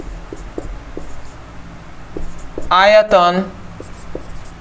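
Soft, faint writing strokes on a board or paper tap and scratch at a steady pace during a Hindi science lesson on solids, liquids and gases, mostly under a man's speech.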